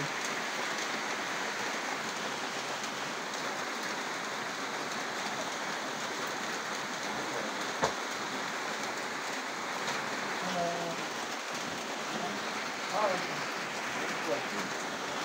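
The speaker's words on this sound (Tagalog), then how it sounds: "Malakas na kasi yung ulan." Heavy rain falls steadily throughout, a dense constant hiss of drops on surfaces, with faint voices and brief small sounds in the background.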